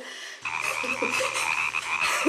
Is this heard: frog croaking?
yes